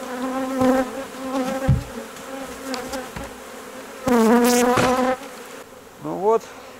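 Honey bees buzzing at an apiary while a swarm is moved from a trap into a hive, a loud close drone with passing bees rising and falling in pitch, several nearer fly-bys standing out over the steady hum.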